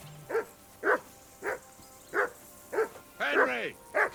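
A dog barks in the Kingdom Come: Deliverance II video game, giving about seven evenly spaced, mid-pitched barks, one of them a longer yelping cry, fairly close and clear against a quiet background.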